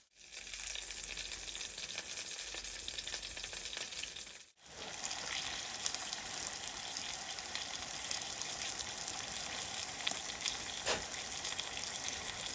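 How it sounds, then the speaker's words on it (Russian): Steady sizzling of wild forest mushrooms and chicken frying in a hot pan, a continuous crackling hiss with a brief break partway through. "Сейчас я их и хочу пожарить вместе с курицей на сковородке."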